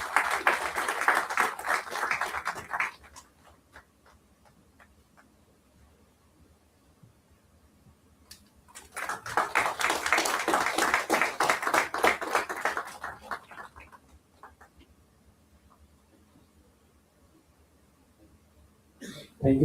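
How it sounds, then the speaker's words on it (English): Applause at an industry summit as dignitaries are honored, two moderate bursts of audience clapping a few seconds each, separated and followed by quieter room sound with faint voices. "Everyone, please a huge round of applause for the sir."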